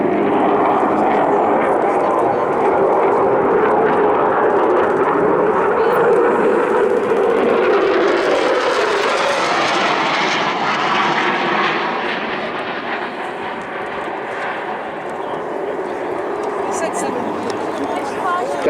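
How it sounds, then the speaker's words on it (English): RAF Typhoon FGR4 jet on a low, fast pass in full reheat at Blackpool Airshow: a loud, rising then fading roar sweeping past, with a commentator talking over a public address throughout. "he's going to punch the aircraft into full reheat and come past us at 700"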